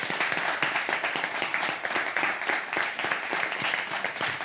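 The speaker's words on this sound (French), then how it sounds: "je vous demande de les applaudir" A comedy-show audience applauds the contestants in a loud, close burst of clapping, with individual sharp claps standing out in a fairly regular rhythm over the crowd's general patter.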